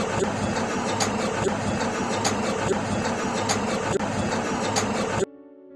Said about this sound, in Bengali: আর যখন আমি ব্যাক স্টিচ বাটনটা চাপ দেবো সেলাইটা আমার পিছন দিকে যাবে